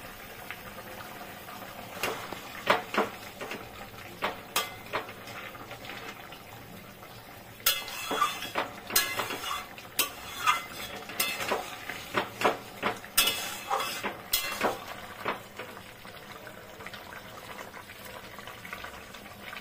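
Slices of ridge gourd drop one at a time into hot oil in a pan. Each lands with a crackling frying burst over a steady sizzle, close and moderately loud, with no talking.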